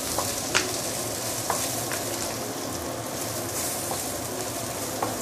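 Sichuan peppercorns, dried chilies, star anise, bay leaf and ginger fry in hot oil in a wok for dry-braised pork leg. A steady close sizzle runs throughout, with a few faint clinks of stirring and no talking.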